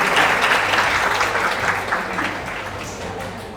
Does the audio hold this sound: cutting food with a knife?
no